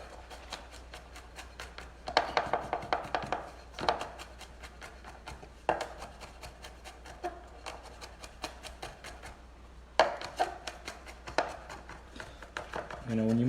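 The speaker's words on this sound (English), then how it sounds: "When you mince it up like this, the juice of the garlic really comes out" A knife minces four large garlic cloves on a cutting board in quick bursts of rapid chopping taps, pausing between rounds, with some talk over the chopping.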